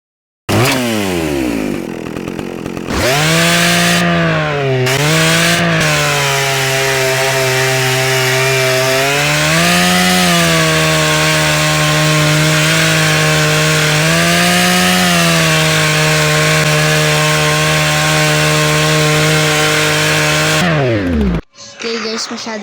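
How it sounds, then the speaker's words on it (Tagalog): A 100cc chainsaw roars loudly and close by in a long, steady drone that swells and dips as the throttle rises and falls, then cuts off abruptly near the end. "100cc chainsaw."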